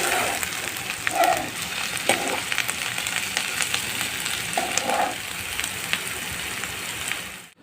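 Chopped onion and tomato fry together in a pan, giving a dense, even sizzle with a few brief stirring scrapes, close up and continuous, without speech.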